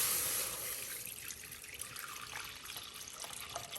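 Homemade soy milk pours from the pitcher of a Nama juicer through its spout, a close, soft liquid trickle that starts fuller and tapers to a gentle steady stream.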